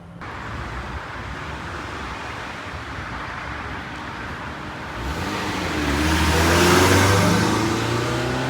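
A Changan Porter light truck with a 2-litre engine drives along a road, its steady engine and road rumble rising into a louder, closer acceleration near the end, with no talk.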